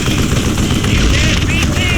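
Continuous dense gunfire in the Western shooter Call of Juarez Gunslinger, loud and close, a steady roar of rapid shots with no gaps over two seconds.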